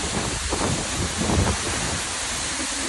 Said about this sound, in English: And now we are directly behind the waterfall